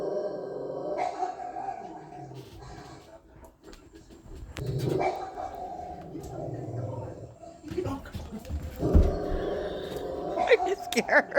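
A dog barks and growls in several loud, rough bursts close by, with pauses between them and some low whimpering, inside a home where a cat is also present.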